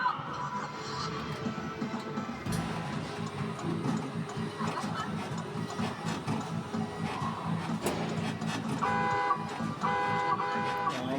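A car horn honks amid busy street noise in Japan, tonal beeps standing out near the end over a steady traffic rumble.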